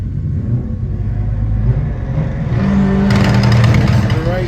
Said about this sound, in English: The Alhambra goes first. The BMW is in chase.